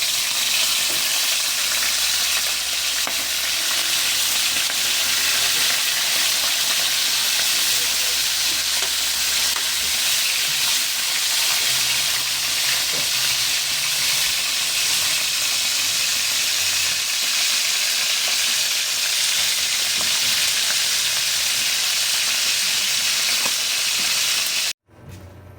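Fish steak frying in oil in a pan for a simple home-cooked meal, a steady loud sizzle and crackle running nearly unbroken, then cut off abruptly at the end.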